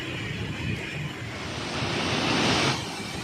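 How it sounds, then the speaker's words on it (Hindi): Fast-flowing water of the Sutlej river at Head Islam headworks rushes past in a steady, loud broadband roar, swelling slightly, with wind buffeting the microphone and no voices. "ठाठे मारता हुआ पानी बहुत ही तेज़ी से जो चल रहा है"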